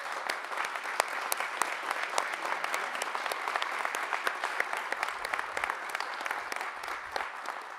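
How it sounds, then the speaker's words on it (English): Audience applause at a community service day event honoring a retired colonel, steady dense clapping at moderate level lasting throughout, with faint voices underneath. "I just want to give a round of applause"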